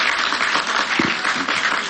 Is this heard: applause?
yes